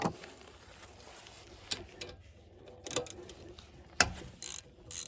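Ratchet wrench turning a 17 mm oil drain plug on a Honda Pioneer 700: a few clicking pawl ratchets and metallic clacks, close but fairly quiet, with no talking.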